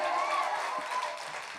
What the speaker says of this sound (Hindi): जोरदार तालियां बजाकर मुझे इजाजत दे दें।